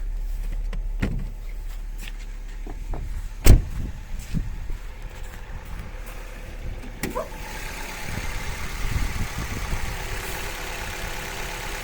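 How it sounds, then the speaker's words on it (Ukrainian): A 2007 Opel Astra H 1.6 petrol engine idles steadily with a low hum, with a sharp knock or clunk partway through and faint mechanical rattles. "Двигун працює рівненько."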